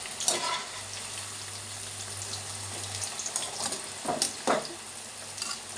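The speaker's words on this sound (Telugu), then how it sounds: "నేనైతే కొంచెం కొంచెం వేసుకొని బాగా ఫ్రై అయితే చేసుకుంటున్నాను నూనెలో" Bitter gourd dropped in small batches into hot groundnut oil fries with a steady close hiss and bubbling, broken by a few clicks and stirring scrapes of a utensil.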